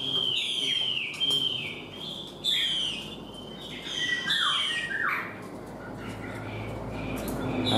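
Wild-caught Chinese hwamei songbirds give loud, varied whistling calls and rapid chirping phrases in bursts, heard close against a constant low hum and murmuring background.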